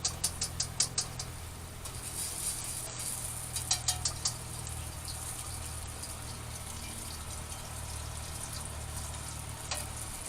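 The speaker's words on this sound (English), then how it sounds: "Get some cold oil in my hot wok." Oil heating in a hot wok, ready for frying pork chops, gives a steady low sizzle, with a few sharp clicks and taps near the start and again around four seconds. No one speaks.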